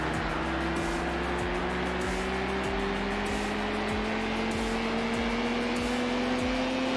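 A supercar engine in the racing game Need for Speed Hot Pursuit 2 revs steadily upward with a loud, continuous, rising whine, carrying through the whole stretch without a break.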